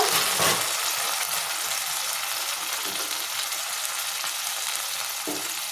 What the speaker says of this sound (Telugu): ఇవి కూడా కొంచెం టమాటాలు మెత్తపడేదాకా వేపించుకోవాలి